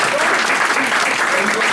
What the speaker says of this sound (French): on peut les applaudir, je les citerai pas